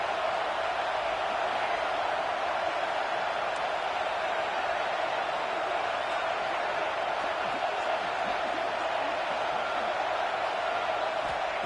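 College football stadium crowd, UCF against South Carolina, roaring in a dense sustained wall of noise that holds steady and loud throughout.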